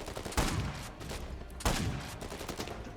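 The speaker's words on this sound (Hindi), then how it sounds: "अरे स्नाइपर मार रहा है।" Sniper rifle fire in the video game Uncharted 4 A Thief's End: two sharp, loud shots roughly a second apart ring out over a dense, busy background of in-game noise.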